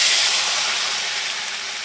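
Ginger and fennel paste hits hot oil in a kadai, a loud close sizzle that hisses steadily and fades slightly over a couple of seconds.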